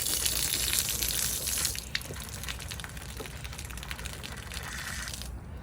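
Hot water runs from the line of a 2021 Cherokee Black Label camper being dewinterized, a steady hiss and splash of flowing water that drops slightly softer partway through, with small clinks.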